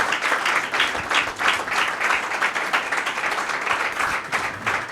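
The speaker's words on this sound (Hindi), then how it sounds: "यीशु मसीह के लिए ज़ोरदार तालियां।" A church congregation claps loudly and continuously at a gospel service, a full, sustained wave of applause throughout.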